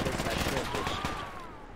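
Video game gunfire in a squad firefight: a quick rattle of rapid shots at moderate loudness, fading as a whistling tone sweeps across the end.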